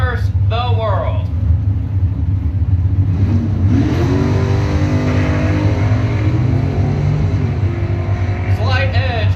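A 1973 Dodge Duster drag race car powers down the track at a Mopar bracket racing event. A loud, sustained engine roar with rising revs continues throughout beneath a commentator's steady talk.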